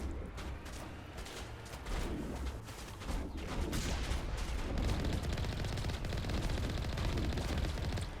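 Gunfire from pirates in the Mass Effect video game, a dense continuous barrage of shots and impacts running throughout at steady loudness, with heavy low rumble beneath.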